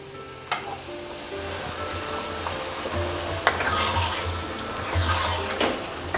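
Water is poured into a cooking pot holding chicken curry with yogurt, a steady sizzling, bubbling wash over a low hum with a few clinks and stirring knocks.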